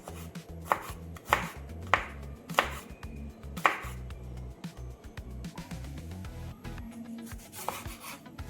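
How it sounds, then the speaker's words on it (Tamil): Rapid, rhythmic knife chopping of garlic finely on a board, close and crisp, with several sharp louder strikes early on before the pace turns lighter. "பூண்டையும் பொடி பொடியாக நறுக்கிறேன்"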